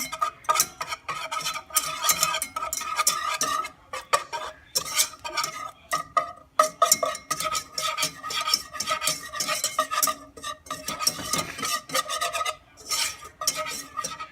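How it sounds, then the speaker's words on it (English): A whisk stirs a clumpy butter roux in a pan for mac and cheese, giving a steady run of close scraping and metallic clinks against the pan with no talking. "And then whisk that around."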